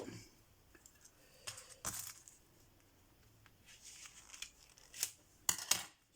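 A small pad of textured paper is opened, giving soft rustling and a few sharp crinkles and tearing sounds, faint and close, in short irregular bursts.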